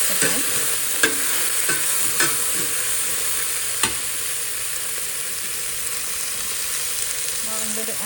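Turmeric and salt being stirred into a sizzling tadka with vegetables in a frying pan for Andhra-style sambar; a steady fry hiss carries scattered spoon scrapes and clicks against the pan.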